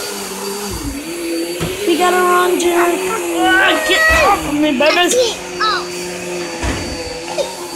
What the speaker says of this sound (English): She's coming in with the vacuum.